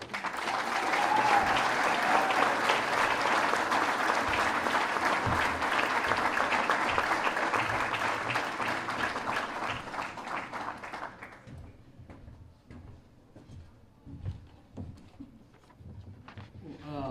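Applause at a hall of fame banquet in Elgin, Illinois, for 2024 Vic Massie Award winner Mike Wall: a full crowd clapping strongly for about eleven seconds, then thinning to scattered claps as it fades.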